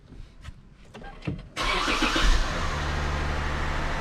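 A few faint clicks and shuffles, then the engine of a 2007 Lexus GS350 cranks and catches, settling into a steady, rumbling idle close by, just after an oil and filter change.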